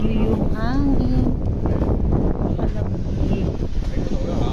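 Steady wind rushing and buffeting the microphone outdoors in cold weather in Macau, with a voice speaking over it throughout.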